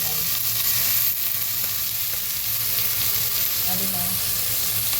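Beef sizzling in a hot pan as it fries for a beef stew, a steady crackling hiss throughout, with a brief spoken word and faint stirring clinks.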